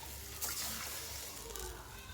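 Water is poured from a vessel into a pot while cashew upma cooks, making a steady, rushing splash that runs for the full two seconds at moderate volume.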